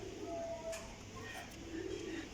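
A Rampuri pigeon cooing softly, a faint low coo heard twice against a steady background hum.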